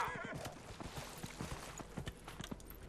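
A horse's hooves clip-clop in a steady walking rhythm in the video game Dragon Age Inquisition, quiet and close, with a brief whinny near the start.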